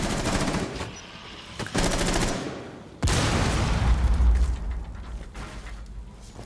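Grenade explosions in Rainbow Six Siege: a loud, booming blast hits partway through, set amid rapid gunfire bursts and rumbling debris.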